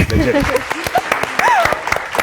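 A brief burst of clapping mixed with chatter and laughing voices, the applause loud and close.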